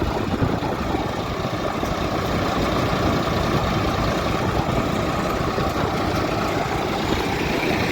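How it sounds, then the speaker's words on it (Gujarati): Steady, loud rumble of an idling Sonalika tractor rigged with a DJ system at a cumin threshing site, the heavy engine noise holding constant throughout with no voices. "સોનાલિકા ટ્રેક્ટર છે"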